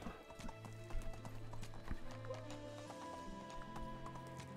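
Horse hooves clip-clopping at an easy riding pace in the Medieval Dynasty game, a steady rhythmic series of close, crisp hoof knocks over a low background, with no talk.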